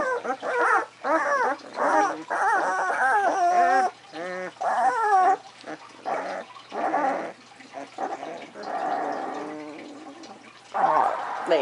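Ten-day-old puppies whimper and squeal close by in a continuous run of high, wavering cries, loud, with several voices overlapping and short gaps between bursts.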